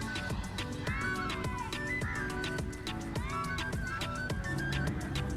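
Several cats meowing at a spot in Dubai, rising and falling calls repeating close by over a dense, rhythmic background sound.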